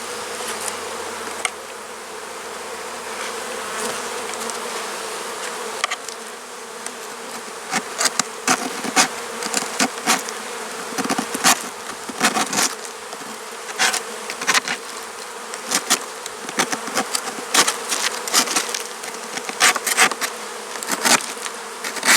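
Honey bees buzz steadily at the entrance of a hive as pollen-laden foragers fly in, a dense, continuous hum punctuated by many close individual bees zipping past the microphone.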